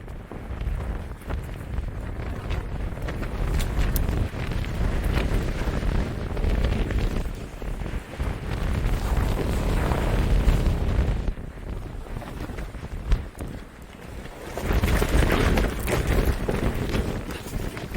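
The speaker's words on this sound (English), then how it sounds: "that wind is incredible" Strong wind on a road trip in Ireland roars and buffets a microphone in heavy, rumbling gusts that rise and fall, briefly easing before surging again.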